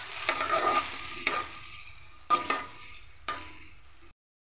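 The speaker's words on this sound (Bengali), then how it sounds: "এখন এই মশলাটাকে আমি খুব ভালো করে ভেজে নেব।" Spice paste with tomatoes and salt fries in a pan with a soft sizzle. Four distinct stirring scrapes land about a second apart, each fading into a quieter hiss before the sound stops abruptly.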